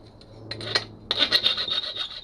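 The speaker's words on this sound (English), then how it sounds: "Cut off the excess and just run around this with a file." A metal file rasps around the welded head of a coach bolt on a 1961 Greeves Scottish trials bike seat bracket: a few light strokes, then a quicker run of close, bright scraping strokes.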